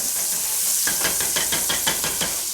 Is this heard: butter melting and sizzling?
yes